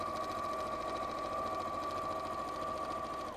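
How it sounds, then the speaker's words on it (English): A sewing machine stitches together the fabric legs of a rabbit softie toy, a steady, close mechanical hum with a fast even clatter running without a break. "So I'm now going to sew the legs together"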